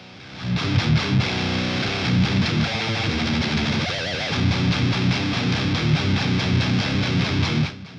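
An electric guitar plays chugging drop B metalcore riffs through a DOD Overdrive 250 pedal, producing loud, tight distorted palm-muted rhythms with brief sustained chords, played alone.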